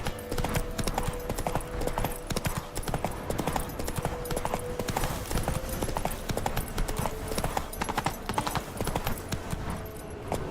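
Roach the horse galloping in The Witcher 3 game, a fast continuous drumming of hooves clip-clopping close and loud throughout, with a short low whinny-like tone mixed in.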